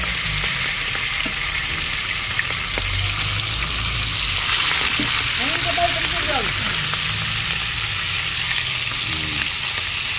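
Steady, loud sizzling and crackling of tulingan (bullet tuna) frying in a hot pan, continuous throughout with occasional faint clinks.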